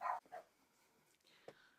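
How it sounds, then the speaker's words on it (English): A pet dog named Coco gives a couple of short, sharp barks at the start, then falls quiet apart from faint room noise and a small knock near the end. "That's my dog."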